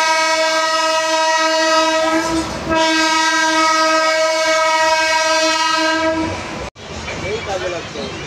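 A long, loud train horn blares with steady harmonic tones over the rumble of a moving train, then cuts off near the end, leaving the clatter of the train running on the tracks.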